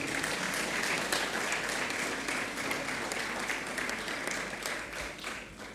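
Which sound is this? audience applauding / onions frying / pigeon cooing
audience applauding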